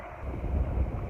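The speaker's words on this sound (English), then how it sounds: "Oh, it's windy." Outdoor wind buffets the microphone in a low, rumbling gust that runs the whole moment, fairly faint, with no voices.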